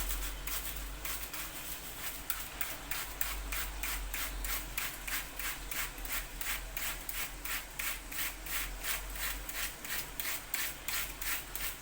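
A blade shaves the edge of a red cabbage in quick, even strokes, a soft rhythmic rasping that repeats steadily at close range.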